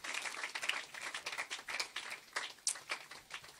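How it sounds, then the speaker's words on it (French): A church congregation claps together in a quick, uneven burst of many hands, moderately close and fairly quiet, sustained for a few seconds. "Give him a hand of clap."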